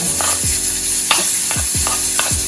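Butter sizzling loudly in a Dutch pot, a constant close frying hiss with rhythmic scraping strokes of a utensil against the pot.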